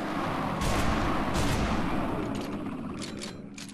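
Gunfire from the Afterfall: Insanity video game, several sharp shots with a burst of impacts as rounds strike a wall, loud and close over a dense rumbling game background, no talking.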